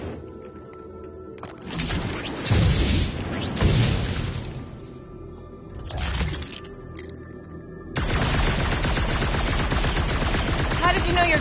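Gunfire in the video game Guardians of the Galaxy, bursts of rapid shots and booming impacts, then a dense sustained stream of fire, with characters speaking during the quieter stretches.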